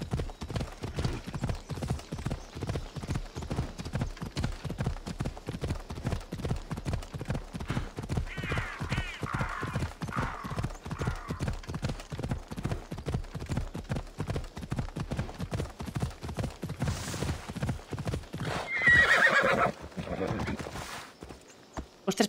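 Steady rhythmic hoofbeats of a horse clip-clop on and on through the Assassin's Creed Odyssey game world, with faint game ambience and a brief neigh or whinny rising near the end.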